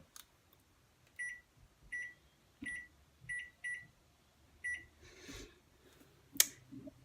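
Faint electronic beeps from a microwave timer sound about seven times at an uneven pace, followed by a soft rustle and a sharp click.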